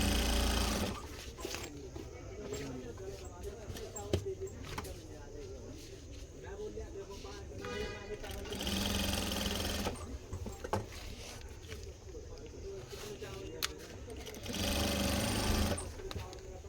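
A sewing machine stitches a belt onto a saree in several loud, close bursts of rapid mechanical whirring, separated by quieter stretches with someone talking over it.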